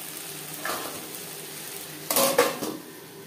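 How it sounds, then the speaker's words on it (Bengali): Fish oil being mixed in a pan over a low to medium flame, a soft sizzle with a burst of clattering utensil scrapes against the pan near the end, close by with no talk. "মাছের তেল বেশ ভালো করে মিক্সড করে দেব।"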